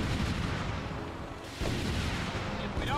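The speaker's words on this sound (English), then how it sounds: "Frank, shoot them down" Continuous dense gunfire and explosions from the WWII aerial combat video game Blazing Angels: Squadrons of WWII, a loud, unbroken barrage with a brief dip midway.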